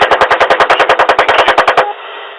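A rapid burst of automatic gunfire follows an order to fire, sounding as about twenty loud, evenly spaced shots over nearly two seconds, then cutting to a fading echo.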